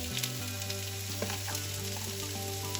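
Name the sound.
chopped onion sautéing in a pan for fish molly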